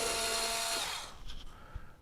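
A power drill whirs loudly, removing the screws from the backing plate of an old RV wall thermostat, then spins down and stops, leaving a few faint clicks and handling noises.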